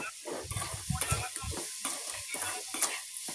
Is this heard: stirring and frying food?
yes